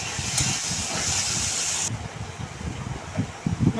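Water with pointed gourd boiling in a pot, a broad steady hiss and bubbling that drops in intensity midway as the heat is switched off, leaving softer rumbling bubbles.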